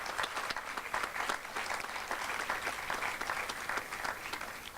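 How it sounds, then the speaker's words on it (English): A hall audience gives a sustained, dense round of applause at the opening of a public library, steady and fairly loud throughout with no break. "a more vigorous round of applause for the Board of Education."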